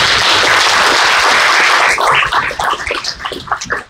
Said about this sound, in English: If we can give them another round of applause.